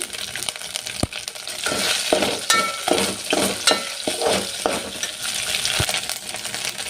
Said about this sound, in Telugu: అల్లం వెల్లుల్లి పేస్ట్ బాగా ఫ్రై అయిందండి